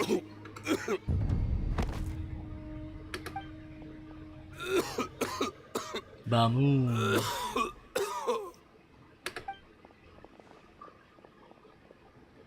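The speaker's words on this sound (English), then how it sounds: "Why is he coughing so much?" A man coughs and clears his throat in harsh repeated bursts, close up, with a brief spoken word and thuds between.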